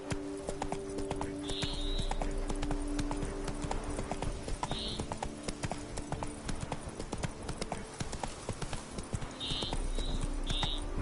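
In the video game The Witcher 3, a horse's hooves clip-clop steadily along in a brisk, even rhythm, with a few short chirping bird calls layered over the game ambience.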